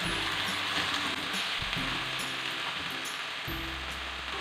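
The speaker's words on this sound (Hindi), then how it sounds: "कीमा फ्राई हो रहा है" Minced meat keema fries in a pan over a medium-high flame, giving a steady close hiss and crackling sizzle with brief shifts in tone as it is stirred, no voices over it.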